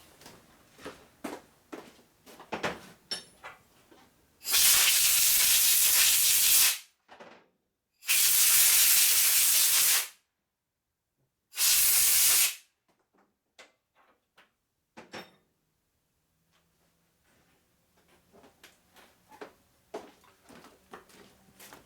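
Three loud bursts of compressed air hiss in succession blowing off Harley-Davidson Sportster engine parts, each lasting a second or two, with quieter clicks and workshop clatter before and after.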